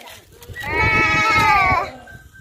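A person imitates a sheep, giving one loud, close, wavering bleat that lasts a little over a second, with quiet background noise around it.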